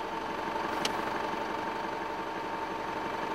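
An Isuzu D-Max engine idles, a steady, fairly quiet mechanical hum with an even tone and one small click partway through.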